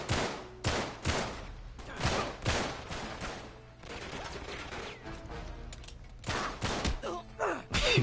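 Gunfire from the Uncharted 3: Drake's Deception video game, repeated loud heavy shots in bursts and clusters with short gaps, close and punchy, no talking.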